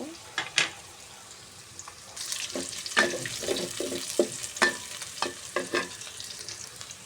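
Onions fry lightly in a pan with a soft continuous sizzle, joined by repeated scraping and clattering stirring strokes that grow busier partway through.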